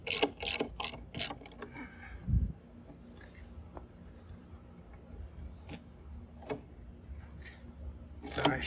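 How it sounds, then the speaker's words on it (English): A ratchet with a half-inch socket tightens bolts on concrete post brackets for a pool pavilion. Quick bursts of close ratcheting clicks come in short runs, then a steadier, quieter stretch of mechanical clicking with a low thump partway through. "Half-inch socket here."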